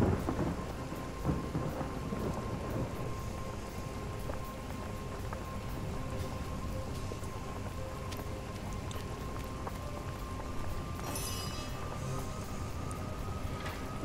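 Steady rain and rolling thunder fill a Divinity Original Sin game scene. The downpour hisses evenly throughout with low rumbles beneath it, and no voices are heard.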